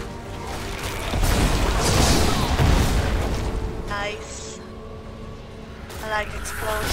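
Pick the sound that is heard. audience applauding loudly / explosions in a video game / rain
explosions in a video game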